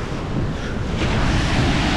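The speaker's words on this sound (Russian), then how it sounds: "Так, волны идут." Continuous rushing surf of ocean waves on a beach in Turkey, loud and close, with wind buffeting the microphone.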